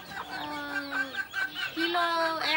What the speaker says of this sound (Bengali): আর এমনি এই যে দেশি মুরগি টুরগিগুলো